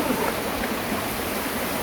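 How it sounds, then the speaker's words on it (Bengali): Floodwater rushes around a house during severe flooding, a dense, continuous close wash of flowing water with no talk. "আমার দ্বিতীয় সিঁড়িতে পানি উঠে গেছে"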